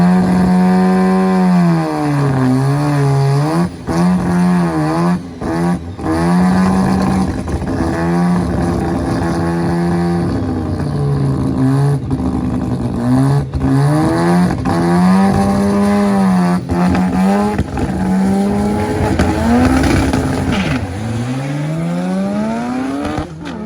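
A drag race car with two-step launch control makes a pass at the track. The engine roars loud and continuous for over twenty seconds, its pitch climbing repeatedly through gear changes with brief gaps between shifts.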